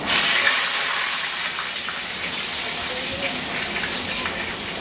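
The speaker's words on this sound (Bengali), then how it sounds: "এখন সেই একই তেলে আমি পটলগুলোকে ভেজে নিব একটু।" Pointed gourd (potol) frying in oil left from frying fish, a steady loud sizzle and crackle that carries on evenly throughout.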